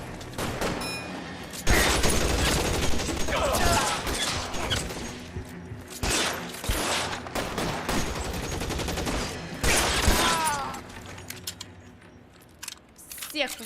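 Gunfire in a shootout from the video game L.A. Noire, with repeated bursts of shots through most of the stretch, loud and dense, while someone talks over the fighting.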